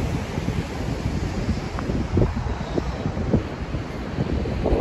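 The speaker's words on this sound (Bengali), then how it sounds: "বাতাস আছে" Wind blowing at the seashore at night, with surf washing in, a steady broadband rush holding at the same level throughout, with faint low thumps from gusts.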